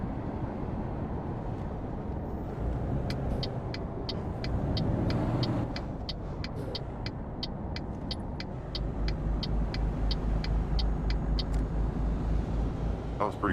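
A truck pulling a trailer in American Truck Simulator rumbles with a low, steady engine drone, joined by a regular ticking like a turn signal partway through, and the engine grows heavier near the end.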